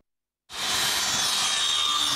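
An angle grinder cuts at a building site in a rural village. It starts abruptly after a short silence, then holds a loud, steady, harsh hiss with a high whine, close by and continuous.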